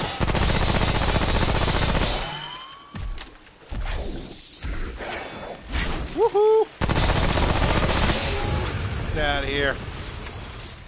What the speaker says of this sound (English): the 3-round burst rifle is handy at times